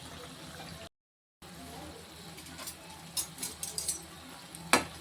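Urad dal vadas bubble and crackle softly in hot oil after being turned, a faint, steady sizzle broken by a short gap and a few clicks of a utensil, with one louder scrape near the end.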